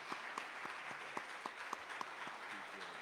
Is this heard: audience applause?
yes